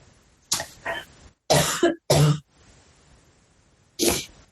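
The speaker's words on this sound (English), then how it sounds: "Sorry, I've got to cough." Several harsh coughs close to the mic, in three or four separated bursts with quiet pauses between them.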